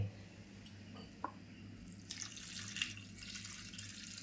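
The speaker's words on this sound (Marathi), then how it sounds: "आता मी हा 2-3 पाण्याने असा स्वच्छ धुवून घेते" Dried small shrimp (sukat jawla) are rinsed in water. A quiet drip or two gives way to a soft, steady run and splash of water close by.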